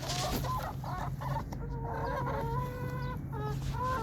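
Chickens cluck and chatter continuously, close by, with several birds calling over one another.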